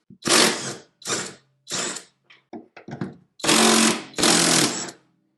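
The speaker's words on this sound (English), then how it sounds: "So next I'll be using the Revvstark to loosen these upper shock bolts." A Revvstark brushless cordless impact wrench loosens the upper shock bolts in a series of loud, close hammering bursts, some long and some short, separated by brief pauses.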